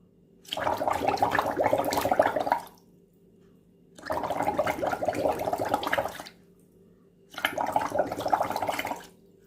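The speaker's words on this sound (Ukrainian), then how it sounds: "Друга вправа бульки." Someone blowing through a yellow drinking straw into water as a lung breathing exercise, three separate bursts of bubbling about two seconds each, separated by short quiet pauses, close and clear.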